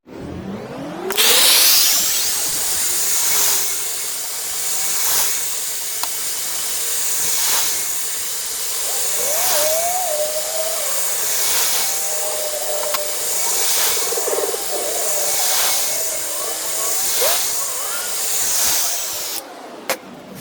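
Heat gun switched on at high heat to warm rubber on Ford truck aluminum trim, a loud steady whooshing hiss with a whining fan tone, starting abruptly and running about eighteen seconds before cutting off.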